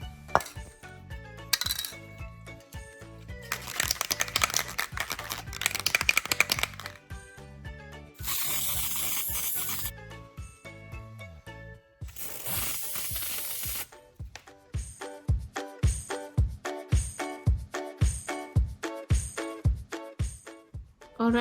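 Aerosol color spray hisses onto Ugg boots in a garage in two long bursts, surrounded by clattering, rattling handling of the can and boots and a run of rhythmic knocking taps.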